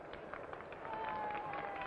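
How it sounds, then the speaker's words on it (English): A baseball crowd at the 1960 World Series applauds, a soft, distant patter of clapping mixed with general crowd murmur. "The crowd responds with some applause."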